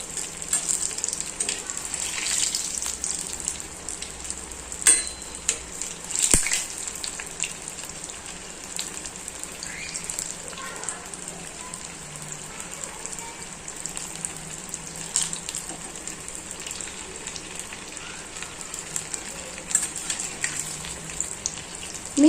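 A cheese-filled vegetable snack deep-frying in hot oil gives a steady, even sizzling hiss that runs unbroken at moderate loudness, with a few faint clicks and bubbles.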